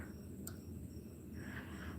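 Crickets chirping at night in an open field, a faint steady high trill under a low background rumble, with no voices.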